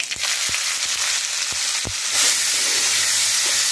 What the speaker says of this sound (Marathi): हे जे शिल्लक राहिलेलं तेल आहे याची आपण फोडणी करून घ्यायची आहे। मोहरी, कांदा